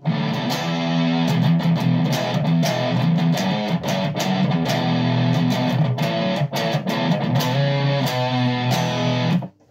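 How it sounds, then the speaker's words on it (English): A heavily distorted electric guitar through a Zoom G2.1u multi-effects pedal's distortion setting plays chords and riffs, loud and saturated, ending abruptly. "What I thought is if I go to the right, I can have a distortion"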